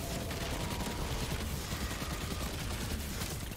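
Dense, rapid gunfire from a primary weapon in the video game Destiny 2 during a solo Legend Lost Sector run, loud and continuous with layered combat effects and no pause.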